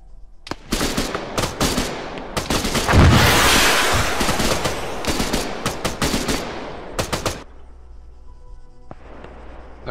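Squads in the Arma 3 video game open fire together, a dense, loud barrage of rifle and machine-gun shots lasting several seconds before tapering into scattered reports and near silence.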